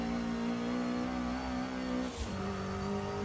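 A car engine in Forza Horizon 5 holds a steady mid-pitched drone, then shifts briefly and settles into a slightly higher steady tone, moderately loud and continuous with no talking.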